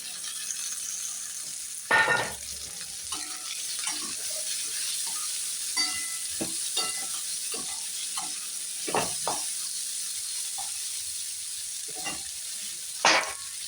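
A steady pan sizzle of potatoes, peas and cauliflower frying, with occasional clinks and scrapes of stirring cutting through the hiss.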